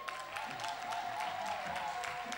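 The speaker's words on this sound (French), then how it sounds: "On peut l'applaudir très fort." Applause from a New Year's Eve party audience for the national president, a steady bed of clapping with a sustained musical tone running through it.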